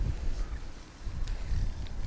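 Gusty wind buffeting the microphone outdoors, a low rumbling roar that rises and falls, with faint water-like hiss in the background.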